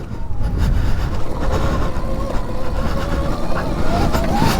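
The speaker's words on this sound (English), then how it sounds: "I don't even mind the sound of the electric, to be honest. That little whinging sounds like me every morning." An electric enduro bike is ridden over rough ground, a thin, wavering motor whine rising and falling over dense rumbling and rattling from the terrain, with some wind noise.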